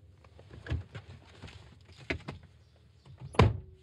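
A car door is shut during a tense exchange in a parked car, giving one sharp, loud thud near the end of the clip after a few softer knocks and rustles.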